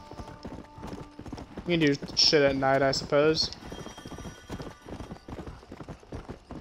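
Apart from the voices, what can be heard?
horse hooves clip-clopping while riding in video game Red Dead Redemption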